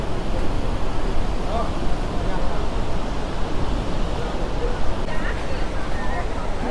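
A steady, dense roar of rushing water from Gaganachukki Falls at Shivanasamudra, plunging from a great height, fills the scene without letup, loud and continuous.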